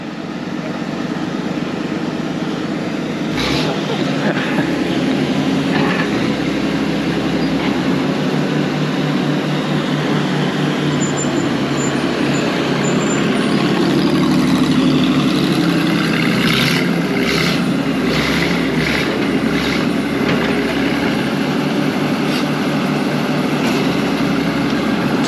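Restored Bantam cable excavator's diesel engine running steadily and loud throughout, with a constant low rumble and mechanical clatter as the machine crawls slowly toward a dirt pile.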